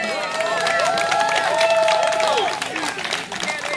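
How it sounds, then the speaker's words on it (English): A crowd at a street rally in Baltimore, Maryland claps and cheers steadily for someone speaker, with voices and a drawn-out shout riding over the sustained applause. "everybody clap it up for her"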